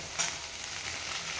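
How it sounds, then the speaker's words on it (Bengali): Carrots, green beans and capsicum stir-frying in a pan of hot oil for fried rice give a brief, steady close-up sizzle with no voices. "গাজরটা একটু ভেজে বিনসগুলো দিয়ে দিলাম, ক্যাপসিকাম দিয়ে দিলাম"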